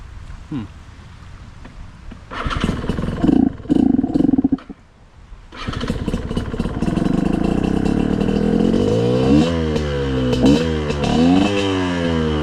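Trail motorcycle with a carburettor fouled by dirty fuel, its engine stalling out, then restarting and idling roughly before revving up and down in several climbing sweeps, loud and close outdoors.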